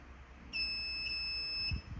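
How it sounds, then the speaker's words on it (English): A home-built safety alarm buzzer, switched on by an ultrasonic sensor, sounds one sustained high-pitched tone for just over a second, fairly close, set against faint background noise. "It will hit the object, come back, and that will switch on the buzzer."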